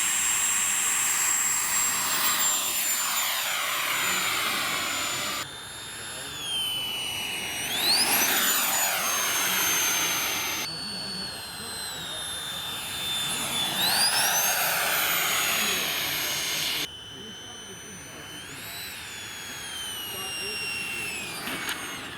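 A 3D-printed RC Harrier jet model in test flight, fuselage level and nozzle angled about 30 degrees down, gives a loud, steady jet whine that rises and falls in pitch over several separate passes.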